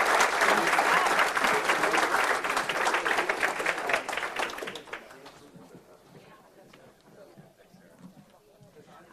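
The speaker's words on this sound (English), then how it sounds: "Let's give a round of applause for Tyler, Bert, and David." A crowd at a breakfast event on data centers and energy use applauds a panel, with loud, dense clapping for about four seconds that thins into scattered claps and background murmur.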